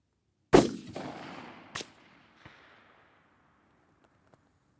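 A VPO-114 Tayozhnik hunting rifle fires a single sharp shot on an open long-range course, followed by a long rolling echo and a couple of fainter distant reports fading out, with no talk.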